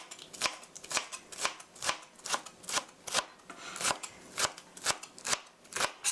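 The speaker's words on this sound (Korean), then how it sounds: "대파도 이렇게 놓고 송송송 썰어주세요." Knife chopping green onion (daepa) on a cutting board, a steady run of crisp, evenly spaced cuts about two or three per second, close and clear with no talk.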